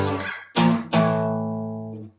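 Electric guitar power chords for the second phrase of a song, with two sharp strums in quick succession, the second left to ring out and decay for about a second.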